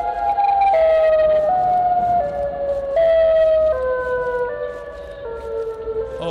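Siren Head from a video game lets out a loud, steady wailing siren that steps down in pitch in several stages over a few seconds, heard alone with no talk.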